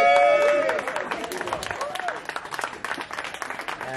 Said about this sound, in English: It took you time to clap for me.